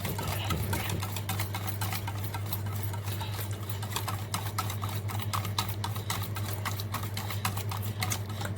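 Eggs and vegetables whisked for an Egyptian omelette (eggah), a fast steady rhythmic clicking of a utensil against a bowl, continuous and close, with a low steady hum underneath and no talking.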